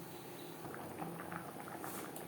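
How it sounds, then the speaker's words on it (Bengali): Fish curry gravy for Bhola bhetki jhal simmers in a pot, with faint, soft bubbling and light popping patter at a low, even level. "গ্রেভি ফুটে ওঠা পর্যন্ত অপেক্ষা করবো"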